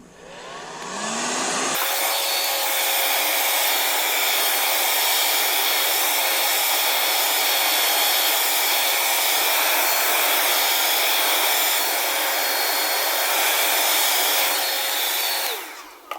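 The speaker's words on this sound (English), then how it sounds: "I'm actually going to take a hair dryer because I do not have a heat gun" A hair dryer, standing in for a heat gun, blows steadily on a car's marker light area to dry out moisture before a decal goes on, a loud continuous whoosh that switches on after a short pause and holds to the end.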